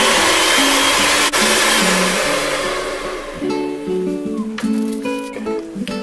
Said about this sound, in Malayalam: ബാക്കിയുള്ള പഞ്ചസാര പൊടിച്ചതും കൂടി ചേർക്കണം കേട്ടോ. ഒന്ന് ബീറ്റ് ചെയ്ത് കൊടുക്കാം.